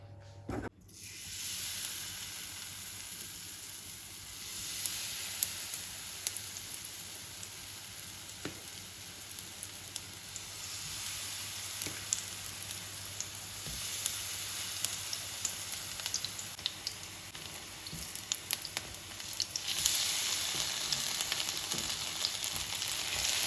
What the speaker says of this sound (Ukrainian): Сковорідка розігрілась, олія розігрілась,